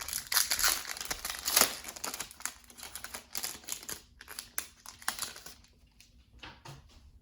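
Yu-Gi-Oh trading card pack wrapper being torn open and handled, giving dense crinkling foil rustles and crackles that are loud at first and then thin into scattered crinkles, with no talk.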